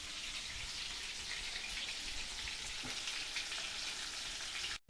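Chicken skewer sticks fry on a low flame with a dense, steady crackling sizzle, close and constant like light rain, cutting off abruptly at the end.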